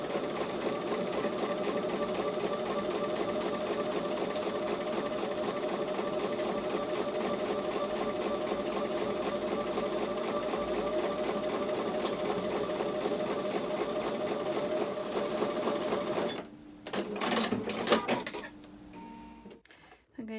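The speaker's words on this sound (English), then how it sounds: "I'm going to take those to the sewing machine and sew with a 1/4 inch seam." A sewing machine runs steadily stitching a quarter-inch seam on quilt block fabric, an even rapid mechanical whir and clatter that continues nearly nonstop before stopping briefly near the end.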